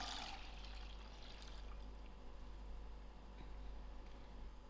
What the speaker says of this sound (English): I'm going to pour in my milk